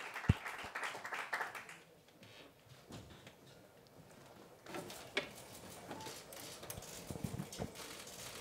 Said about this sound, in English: A round of applause for Andrés Iniesta